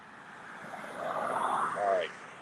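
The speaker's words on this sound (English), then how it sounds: "Here comes another car." A single car passes on a road near a graveyard at night, a faint engine swell rising gradually and peaking close by before fading slightly, heard at a distance and alone.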